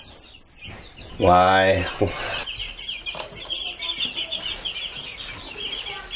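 Chickens and young chicks on a small farm, soft clucks and peeps scattered through, with a loud drawn-out vocal burst early on and a person speaking briefly nearby.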